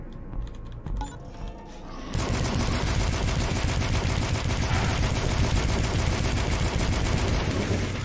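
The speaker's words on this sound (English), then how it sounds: "I'll use the assault rifle to kill this one." In the game Dusk, an assault rifle opens up after a couple of seconds of quieter play, hammering out a loud, rapid, unbroken stream of automatic gunfire that fills the remainder of the clip.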